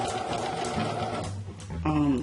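Domestic sewing machine stitching fabric for point sewing, a steady mechanical whir running near and loud through most of the moment, then slowing with a brief mechanical rattle and clunk near the end.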